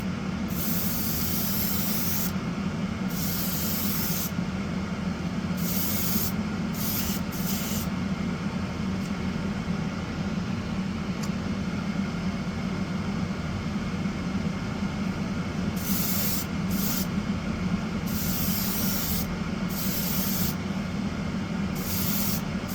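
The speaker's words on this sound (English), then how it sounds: "here we go for a light dusting." Spray paint hisses in a light dusting over masking tape, a loud close continuous spray with short on-off bursts of bright hiss through the whole stretch.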